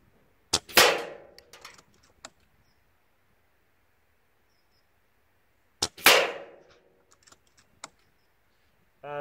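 A Kral Puncher Breaker bullpup air rifle fires two sharp, close cracks several seconds apart, each followed by brief mechanical clicks and handling noise in an otherwise quiet setting.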